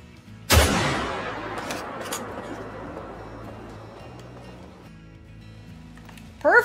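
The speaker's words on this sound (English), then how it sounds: "I love the sound of the 303" A single FL Sporter .303 rifle shot in a video game: one sharp, loud crack that rolls out into a long reverberating echo and fades slowly over several seconds.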